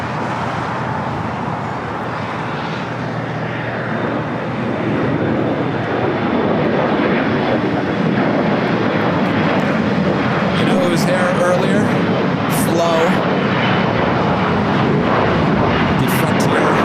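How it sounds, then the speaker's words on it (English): A Japan Airlines Boeing 787-8 Dreamliner landing at LAX, a steady broadband jet roar that swells after a few seconds and holds loud, with talk over it. "As that Japan Airlines Dreamliner sneaks in."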